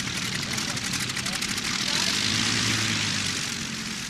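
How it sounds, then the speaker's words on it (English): Junkers 52 transport planes fly overhead during the Spanish Civil War airlift of the Army of Africa from Morocco. Their propeller engines give a loud, sustained, droning roar that swells slightly in the middle. "a full squadron of Junkers transport planes to airlift the Spanish Army of Africa"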